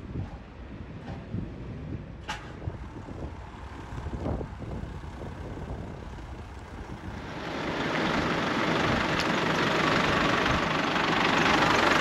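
A BMW Z4 engine idles and runs steadily in a steady low drone at an auction site, with wind buffeting the microphone and a brighter, louder rush building over the second half.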